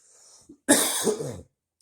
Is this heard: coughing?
yes